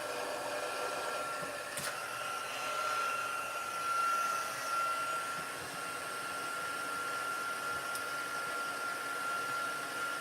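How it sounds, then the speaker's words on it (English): A handheld craft heat tool runs continuously as it heats up, producing a steady close blowing whir with a faint high whine and no talking. "And then I've got my heat tool here. We're going to let it heat up."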